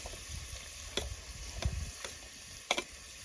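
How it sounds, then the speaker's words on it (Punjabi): Chopped capsicum fries in hot refined oil with a faint, steady sizzle, broken by a few soft clicks and taps from stirring. "ਥੋੜੀ ਜਿਹੀ ਫਰਾਈ ਕਰ ਲੈਣੇ"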